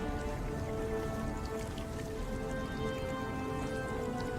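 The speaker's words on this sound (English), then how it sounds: "The rain is going backwards." Steady rain in a Destiny 2 reveal cinematic, a dense continuous patter with a low tonal music bed running beneath it, no voices.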